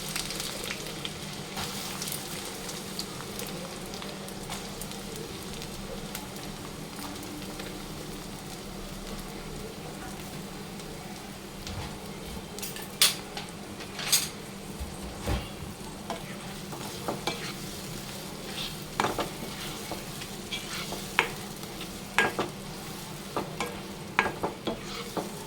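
Onions frying in boiling oil for a Konaseema-style dried fish curry, a quiet continuous sizzle broken by frequent sharp scrapes and clinks of stirring, growing busier toward the end.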